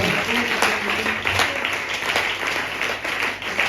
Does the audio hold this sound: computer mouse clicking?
no